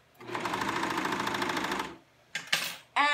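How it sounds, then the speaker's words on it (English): A serger stitches a seam in a fast, even whirring burst of about two seconds, close by, followed by brief clicks and handling noises. "And to turn a corner on a serger seems to be doing okay."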